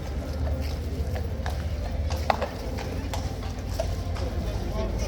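Hooves of a King's Guard horse clip-clop on pavement, a steady irregular patter heard close against continuous crowd chatter and outdoor bustle.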